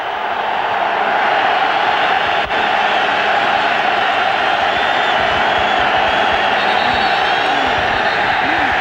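A huge stadium crowd roars and cheers at a 1999 college football game, Virginia Tech against Miami, after a turnover, a loud, sustained wall of noise with whoops under a commentator's voice.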